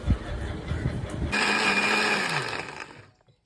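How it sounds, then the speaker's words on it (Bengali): An electric spice grinder whirs into a loud, steady grind of whole spices with a bay leaf and a splash of water for chicken kosha, running about two seconds before winding down to silence, after some kitchen clatter. "খানিকটা জল দিয়ে আমি এবার এই মশলাগুলোকে গুঁড়ো করে নেব"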